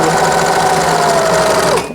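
A home sewing machine stitches fabric for a Butterick 6455 top in one steady, fast, loud whir that runs continuously, then slows and stops near the end.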